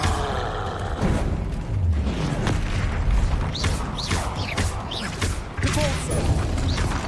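Confringo blast spell explosions in the Hogwarts Legacy video game, several booming impacts and crackling bursts mixed with whooshing spell effects and game sounds, steady and fairly loud throughout.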